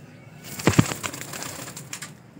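Pigeons give a short, soft cooing burst, with faint flutter and rustling around them in an otherwise quiet space.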